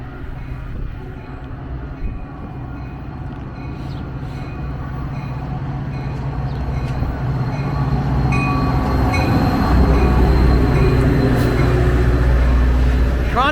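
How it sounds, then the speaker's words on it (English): A Metra UP Northwest commuter train rolling into the Mt. Prospect station, a loud steady rumble of wheels and engine that grows heavier as it draws near, with squeaks and rattles over the top. "UP Northwest train number 653 to Palatine is now arriving."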